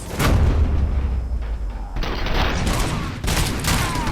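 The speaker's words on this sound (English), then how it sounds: "My bullets have a chance to explode." Dense gunfire from the video game RoboCop: Rogue City, with exploding rounds, rattles in heavy overlapping bursts and booms throughout, loud and continuous.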